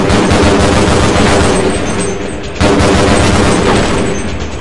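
Rapid gunfire in the video game Half-Life: a dense, sustained barrage of loud shots filling the whole stretch, with one brief dip in the middle before the shooting resumes at full intensity.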